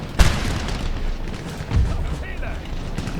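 Cannon fire on a Napoleonic battlefield in the strategy game Napoleon: Total War, two heavy booms about a second and a half apart, loud and close against a rumbling battle din with someone talking over it.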